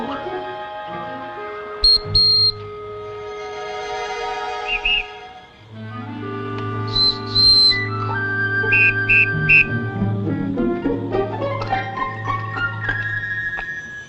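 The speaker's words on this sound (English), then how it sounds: "Whistle made from wing bone of eagle." High, piercing blasts from an eagle wing bone whistle in short bursts over a sustained musical score, with several shrill tones repeating later.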